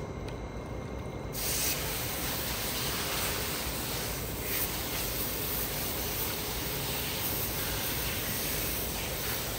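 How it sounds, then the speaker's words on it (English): Garden hose spraying water over a large aftermarket air filter during cleaning, a loud steady broadband hiss of water jet that starts abruptly and runs continuously, close up. "a liberal spray with the garden hose"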